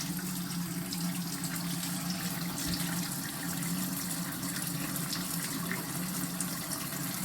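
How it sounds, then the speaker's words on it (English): Water running steadily from an opened tap on an air distiller cleaning kit, a continuous even gush with no talk over it. "Okay, open the water tap."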